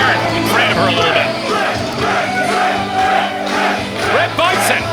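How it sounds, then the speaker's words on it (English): A large wrestling crowd roars and chants in a big arena, voices blending into a loud, sustained din with occasional louder swells. "Listen to this crowd."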